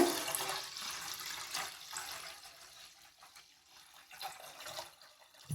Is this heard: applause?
no